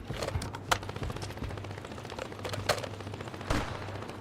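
Rapid SMG bursts fire in Apex Legends, a few sharp volleys spaced over steady game background noise, with no talk over them.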